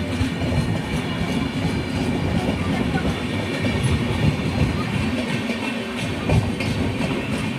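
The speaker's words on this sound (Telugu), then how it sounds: "Arakkonam junction platform number 1A మీదకైతే మన ట్రైన్ వెళ్తుంది" Puducherry-Tirupati MEMU Express train rolling on rails as it approaches Arakkonam Junction, a steady loud rumble of wheels and carriages with rhythmic clatter throughout, heard from on board.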